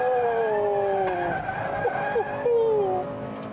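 Honda Integra Type R DC2 taken through a corner in third gear, its engine note holding steady and loud before tyres squeal briefly mid-turn as the revs shift.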